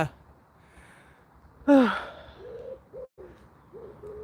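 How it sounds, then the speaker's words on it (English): A wood pigeon calls from up in a tree on an outdoor nature walk, its soft repeated coos sounding after a sudden breathy burst, faint and somewhat distant. "I assume you guys can hear the wood pigeon up in the tree"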